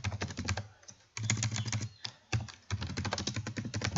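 Typing on a computer keyboard, rapid clustered keystrokes in bursts with short pauses between, close and fairly loud, no voices.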